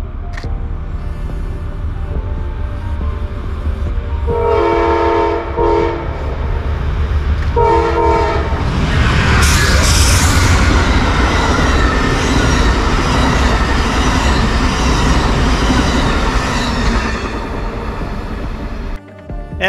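An Amtrak passenger train rolls past with a steady heavy rumble and clatter of wheels, and its horn blasts twice in long tones before the cars keep roaring by up close.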